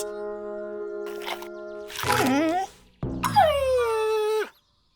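A cartoon dog in a 3D kids' pretend-play animation whimpers close up in two whiny bursts: a short rising whine, then a long, sliding whimper that falls away before the clip goes silent.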